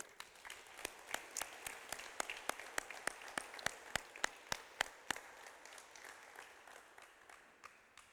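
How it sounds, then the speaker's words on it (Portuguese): A church congregation claps together at a Sunday service, sharp rhythmic unison claps at a steady beat that carry on for several seconds and then thin out and stop. "Vamos dar uma salva de palmas para Jesus de novo?"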